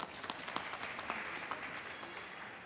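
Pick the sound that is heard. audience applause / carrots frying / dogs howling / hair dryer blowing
audience applause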